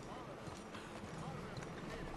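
Horse hooves clip-clop in Red Dead Redemption 2, a brief run of close, rhythmic hoofbeats under game ambience.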